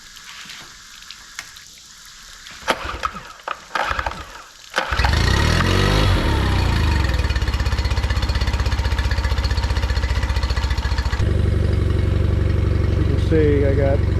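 A Mercury 8hp outboard engine cranks with a few sputters, then catches and runs loud and close at a steady idle, its note shifting slightly partway through.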